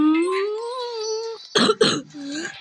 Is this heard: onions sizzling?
no